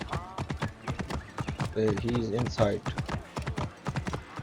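Horse hooves clip-clopping in Assassin's Creed Origins as a mount walks indoors, a regular close hoof rhythm with a brief whinny midway and someone talking over it.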